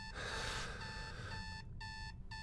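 Digital alarm clock beeping in the horror video game Is Simon There, a steady electronic tone followed by two bursts of rapid beeps, loud and close over a low background hum.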